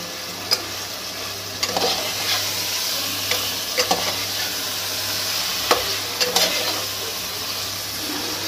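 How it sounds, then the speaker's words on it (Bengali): Mutton simmering in a pan, braised again after hot water is added, sizzles steadily and loudly up close while a spoon scrapes and stirs in intermittent strokes, over a constant low hum, with no talking. "গরম জল দিয়ে মাংসটাকে আবার কষিয়ে নেব"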